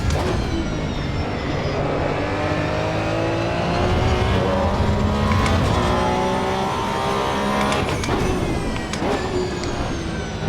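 Porsche Cup race car in the Assetto Corsa Evo racing game, engine screaming at high revs under throttle with rising and falling pitch through gear changes, loud and continuous with other cars nearby.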